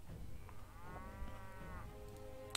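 Cattle in Mount and Blade: Warband low with a drawn-out, wavering moo, heard once over a steady game background.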